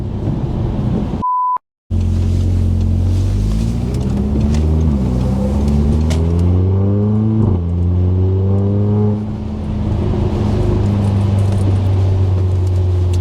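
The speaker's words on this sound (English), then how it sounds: "Can't lie though, I love the sound of a DSG." An Audi TTS with a DSG gearbox accelerates hard from inside, the engine rising in pitch through several quick gear changes with brief drops between shifts, loud and close; a short electronic beep sounds near the start.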